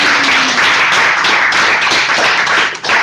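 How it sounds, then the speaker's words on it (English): Audience at a Toastmasters English speaking club in Kyiv gives a speaker a big round of applause, a dense, steady wash of many hands clapping close by for about three seconds, easing off briefly near the end. "Big round of applause for Ruslan."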